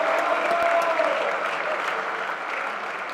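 Steady, dense applause from a football banquet audience honoring a senior wide receiver and defensive back, sustained and fairly loud throughout with no pauses.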